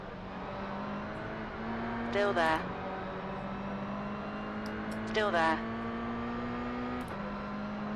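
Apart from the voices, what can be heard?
race cars passing close alongside in iRacing video game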